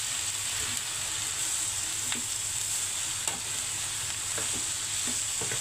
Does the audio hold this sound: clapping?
no